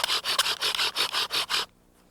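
A bow drill spindle rubbing against a wooden board to start a primitive fire, heard as about eight rhythmic back-and-forth rasping strokes that stop abruptly, leaving near silence.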